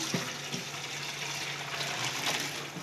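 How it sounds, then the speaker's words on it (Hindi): Water poured off freshly boiled spaghetti as it is strained: a steady, close, hissing rush of liquid with a few faint clinks. "अब हम इसका पानी निकाल लेंगे, छान लेंगे हम इसे।"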